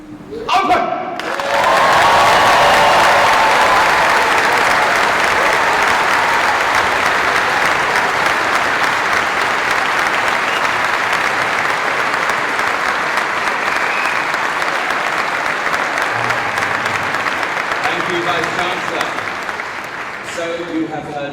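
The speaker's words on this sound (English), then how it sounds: "Will you please give the most enormous cheer as I declare this congregation" Large graduation ceremony crowd at Warwick University bursting into loud sustained cheering and applause, swelling quickly and holding strong for about twenty seconds before easing slightly at the close.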